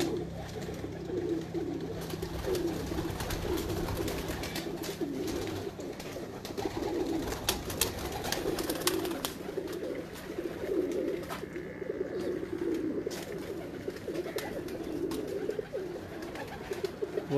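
Breeder pigeons in a loft at Noshehran Virkan coo steadily and softly, several birds overlapping in a continuous low murmur with occasional wing flutters.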